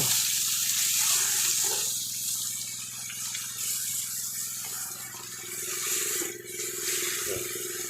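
Water gushes and hisses steadily during a car wash, a broad, continuous rush close by, with a faint background hum and no talking.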